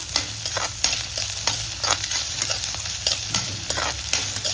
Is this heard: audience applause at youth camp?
no